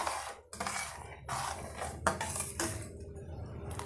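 Sugar syrup stirred in a pan for a milk powder sweet, a spoon scraping and clinking against the metal in a steady run of clattery strokes, close and fairly quiet, with no talking.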